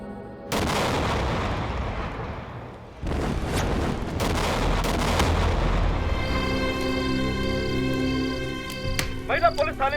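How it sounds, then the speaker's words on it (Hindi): Bomb blasts go off at a women's police station: a sudden loud boom, a second heavy explosion a few seconds later, then sustained rumbling debris and ringing tones fading out near the end. "महिला पुलिस थाने में हुआ बम ब्लास्ट"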